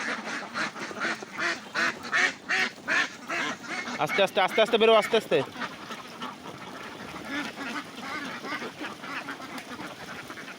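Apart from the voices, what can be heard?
ducks quacking as released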